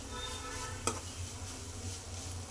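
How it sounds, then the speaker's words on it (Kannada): Bitter gourd gozzu frying in a pan gives a soft continuous sizzle, broken by a single utensil tap and a brief stir near the end, with no voices. "ನೋಡಿ, ಫ್ರೈ ಆಗ್ತಾ ಇದೆಯಲ್ಲ, ಚೆನ್ನಾಗಿ ಫ್ರೈ ಮಾಡ್ಕೊಳ್ಳೋಣ"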